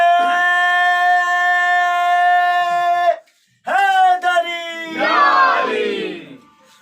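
A crowd at a religious Eid-e-Ghadeer celebration gathering shouts a slogan in unison, a loud sustained chorus of voices that breaks off briefly and then returns as a rougher, more scattered roar.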